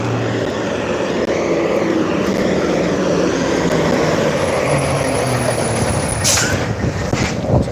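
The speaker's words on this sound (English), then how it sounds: "Gigantic truck." A gigantic truck roars past on a roadside with no sidewalk, a loud sustained rumble and rush filling the whole stretch, with a sharp hissing burst near the end and no talking.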